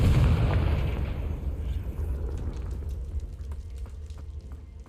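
A Confringo fire spell detonating in the Hogwarts Legacy video game, a loud booming blast inside a cave that fades into a rumbling tail over several seconds, with no talking.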